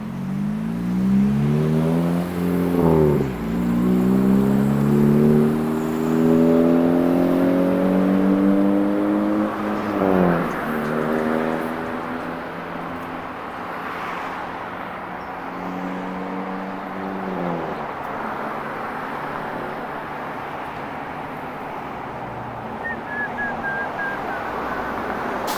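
Car engines rev and accelerate through Toronto street traffic, heard from an e-bike: several loud, close rising revs in the first half, then a steadier traffic hum.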